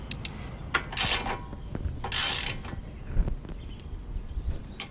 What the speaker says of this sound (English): We'll tighten down this castle nut here. Should be a 19 millimeter on that.